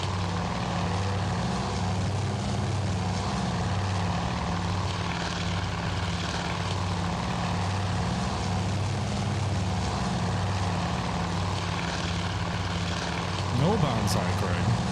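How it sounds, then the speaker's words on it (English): Propeller aircraft engines in the Task Force Admiral naval strategy game drone steadily and loudly throughout, a thick continuous pulsing roar with no break. "aircraft are underway"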